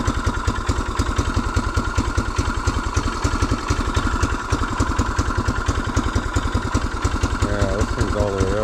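A 1975 Honda XL250 motorcycle engine runs steadily at a rapid, even idle, loud and close, with a brief rising rev-like swell near the end.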